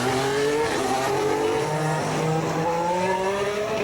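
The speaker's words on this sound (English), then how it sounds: "Now this is the new Red Bull, the RB11, driven by Daniel Ricciardo, with a special camouflage look about it, just for testing" A camouflaged 2015 Red Bull RB11 Formula 1 car drives on the Jerez circuit during pre-season testing, its engine a loud, continuous high-pitched whine with rising gear sweeps, heard alone without talk.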